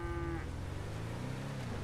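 Several cows in a role-play game server moo in a steady chorus, deep lowing calls overlapping one after another, close and fairly loud with no talking.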